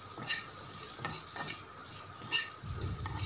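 Spices with black pepper fry in a pan for a moong dal tadka, a soft steady sizzle broken by several scraping strokes of a spoon as the mix is stirred, with no talking.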